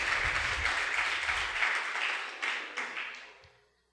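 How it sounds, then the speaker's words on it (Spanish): A church congregation applauds during a Spanish-language sermon, a full wash of clapping that holds steady, then thins to a few isolated claps and fades out. "Ese aplauso es de misericordia."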